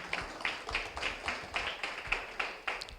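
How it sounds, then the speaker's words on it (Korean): Seminar attendees give a small round of applause: sparse, fairly faint claps land in a loose, steady rhythm about three per second, with no talk over them. "큰 박수 부탁드리겠습니다"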